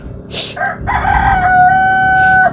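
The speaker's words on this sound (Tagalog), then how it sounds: "Ang ingay ng manok." A rooster crows loudly and close by in a rural Philippine village, one long drawn-out call that rises and holds before trailing off.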